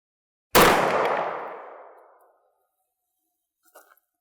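A single sharp gunshot from a .30 Super Carry handgun, a loud close crack followed by a long ringing decay that fades over about two seconds, then a faint brief clatter.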